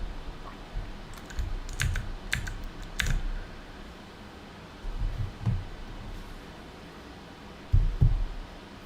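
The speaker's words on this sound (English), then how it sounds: "it seems like people like the keyboard sounds" Keyboard keys clatter in short bursts of clicks during a coding session on a roguelike game in C++, close and fairly quiet, with pauses between flurries and no talk.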